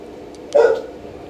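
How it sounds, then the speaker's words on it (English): One short dog bark, muffled and somewhat distant, breaking a quiet background hiss inside a house at night. "I don't know what my dog's barking at."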